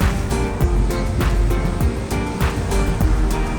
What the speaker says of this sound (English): A blow hole, a blow hole.